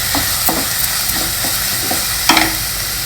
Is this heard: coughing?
no